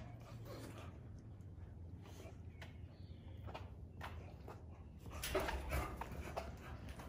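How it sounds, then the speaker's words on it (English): American bully mother dog and her puppies whimpering in a kennel, faint high whines and squeaks scattered over steady background noise, with a slightly louder burst near the end. "the mama dog right here"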